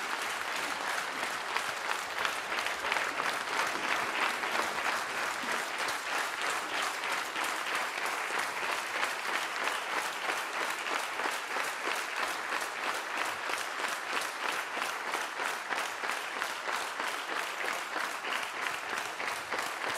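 A full audience at a mugham singing competition applauds war veteran guests in a dense, steady roar of clapping that holds evenly from start to finish.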